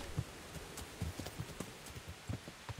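Horse hooves clip-clopping in Kingdom Come Deliverance, a steady, fairly quiet trot of soft thuds repeating every fraction of a second with no talking.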